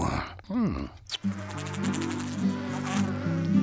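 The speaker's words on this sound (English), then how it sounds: "These are my bees." A low, steady buzz of bees from beehives in the animated show Franklin and Friends hums continuously after a brief sweeping sound at the start, fairly close and unbroken.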